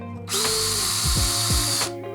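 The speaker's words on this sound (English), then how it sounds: "I used the drill again to widen the hole for the dog collar." Power drill widening a hole in a dog collar strap, a loud close whine that starts abruptly and runs about a second and a half with pitch dips as the bit bites, then cuts off.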